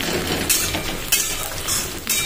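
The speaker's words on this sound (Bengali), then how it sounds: "পেঁয়াজটা আমার ভাজা হয়ে আসছে প্রায়" Onions fry in a pan with a continuous sizzle, broken by a few sharp scraping stirs of a utensil against the pan, close and moderately loud with no talk.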